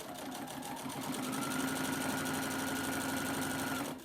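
Sewing machine stitching the binding on a mini quilt, an even, close mechanical hum with fast rhythmic needle chatter running continuously for about four seconds before stopping.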